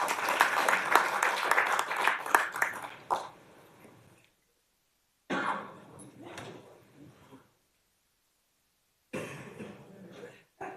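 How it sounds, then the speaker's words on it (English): Applause from an audience at an Augusta commission meeting comes in short bursts of clapping separated by silent gaps, moderately loud in a room, with some coughing or shuffling mixed in. "let's give another round of applause for our reward certificates participants"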